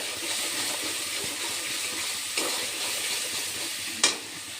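Potatoes and spice paste with a little yogurt stir-fried in a pan, a steady close sizzle with soft scraping stirs and a sharp clink near the end, no talking.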